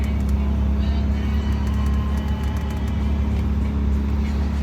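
Porsche Macan air conditioning cranked to full, a steady low blower hum and airy rush filling the cabin, constant and close with no voices.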